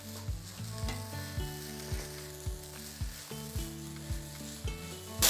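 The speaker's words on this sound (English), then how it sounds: "Go ahead and stir that in." Pineapple fried rice sizzles steadily in a pan while being stirred, with repeated scraping strokes of the utensil about twice a second over the constant frying hiss, close and alone.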